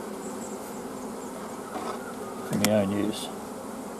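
Honey bees buzzing at a beehive, a small single nuc colony, make a steady, dense hum throughout, with a brief louder swell near the middle as a voice speaks a few words.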